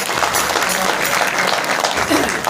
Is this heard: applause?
yes